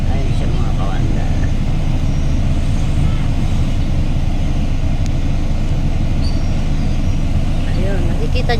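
Heavy street traffic rumbles on continuously with loud low engine drone from passing vehicles, including tricycles, close by, while people talk over it.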